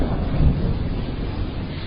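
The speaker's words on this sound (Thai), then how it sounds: "เสียงฟ้าร้องดังกระหึ่ม" Thunder effect in a narrated folk tale: a short, deep rumbling roll, near and fairly loud, swelling briefly before fading into a low wind-like wash.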